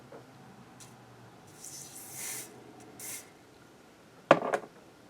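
Pur Minerals Liquid Veil spray foundation mists out in a couple of soft, short hissing bursts, followed by a louder rustle or squish close to the microphone.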